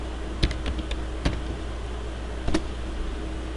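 A computer keyboard is tapped in a few sparse, separate keystrokes while a command is entered in Windows PowerShell on Windows Server 2012, close against a steady background hum.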